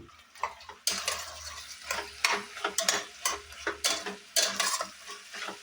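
Ginger garlic paste and salt frying in a pan for vegetable dum biryani, with a close, steady sizzle broken by repeated stirring scrapes and clinks of a utensil against the pan.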